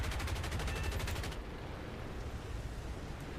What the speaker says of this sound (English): Love me some 50 cals.